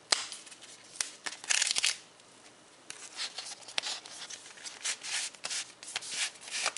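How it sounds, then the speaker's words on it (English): Tabs on screen protector packaging for an iPad mini are peeled away, giving soft rustling and tearing scrapes of paper and plastic with a few sharp clicks, close and fairly quiet. "Just peel away these tabs."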